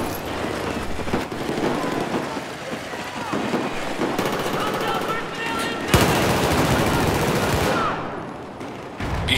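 G18 pistol fire in Battlefield 4 rattles out in dense rapid bursts, loud and close, over a constant noisy background with one sharp crack near the middle.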